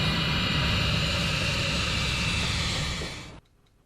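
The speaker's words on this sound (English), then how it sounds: "since it is the quiet power mode, the engine in this mode really does work a little quieter" A Pilatus PC-24 business jet engine runs in quiet power mode with a loud, steady roar and whine that holds, then suddenly drops away to near silence.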